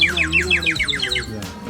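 Water-filled bird whistle blown to imitate birdsong, giving a rapid series of bright warbling chirps, close and clear, about a dozen trilled notes in quick rhythm, followed by a short breathy puff.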